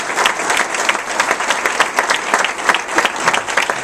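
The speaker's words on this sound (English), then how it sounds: "We want to give them also a big round of applause." A crowd of Hidalgo County municipal and school board officials and guests gives a sustained round of applause, dense steady clapping from many hands filling the room without pause.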